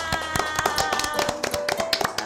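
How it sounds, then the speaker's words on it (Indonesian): Children clap their hands in a quick, uneven patter of close, crisp claps during a radio children's program in Palembang, with faint music tones underneath. "Oke, tepuk tangan."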